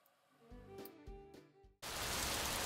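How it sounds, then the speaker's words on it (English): A rain sound effect in a children's rhyming compilation, starting as a sudden steady wash of hiss that cuts in after a few soft musical notes. "It's raining!"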